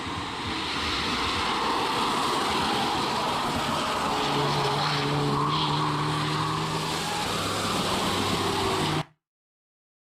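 Racing cars roar past on a track, a gray BMW among them in a DTM Trophy-style race, with a dense sustained engine drone, tire noise and passing tones, loud and continuous for about nine seconds before cutting off.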